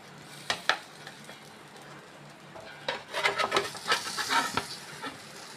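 Egg chatti parotta sizzles and crackles in a hot pan as it is flipped, a few soft scrapes first, then a denser burst of frying hiss and spatter close by.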